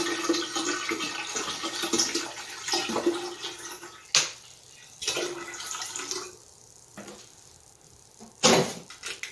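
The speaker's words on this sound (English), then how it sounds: "I will continue filling this jar with spring water until we reach the gallon mark." Spring water pours into a gallon glass jar for water kefir, a steady splashing rush that fades and breaks off into short bursts and pauses toward the end.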